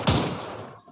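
A burst of gunfire in the video game Call of Courage: one sharp shot with a short decaying tail, followed by another abrupt report at the end, close and fairly loud.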